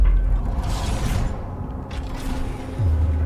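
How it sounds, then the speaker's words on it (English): A sci-fi door mechanism in Star Wars: Ahsoka opens with a low mechanical rumble, creaks and whooshing surges, ending in a deep humming tone, loud and close with no talk. "Even the door's cool."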